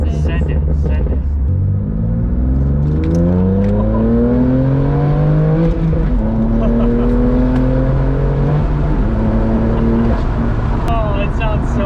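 A BMW M2 Competition with a loud modified exhaust revs repeatedly up and down, its engine note rising and falling close by, with a steady rumble throughout and people talking over it.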